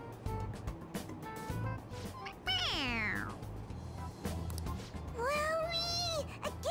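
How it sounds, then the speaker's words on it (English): An animated stuffed toy cat gives electronic meows when its head is pressed, two clear sliding meows standing out over a low background murmur. "It meows when you press on its head."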